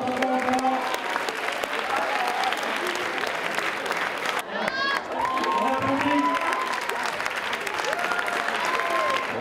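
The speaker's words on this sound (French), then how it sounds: "On les applaudit encore." A crowd at a school rugby tournament applauds the winning team from Toulouse, a loud sustained wash of clapping with scattered cheers and voices mixed in throughout.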